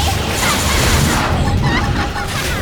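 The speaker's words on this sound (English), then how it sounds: "Flame grenade!" Loud, dense explosion bursts from a flame grenade in the Xenoblade Chronicles X Definitive Edition video game, crashing booms layered with battle effects and a shouted voice.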